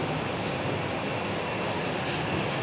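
Steady, loud broadband roar of a Pelita Air airplane's engines heard from inside the cabin on a Jakarta to Makassar flight, continuous and unchanging with no voices.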